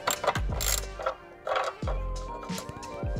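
Air temperature sensor screws on a GR Supra airbox being removed with a T20 driver: close ratcheting clicks and short scraping bursts in an irregular rhythm, with brief metallic ringing between them and no talking.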